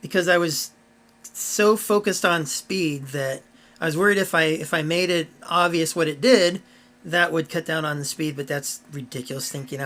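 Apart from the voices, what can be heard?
No distinct noise like a dog, phone or traffic.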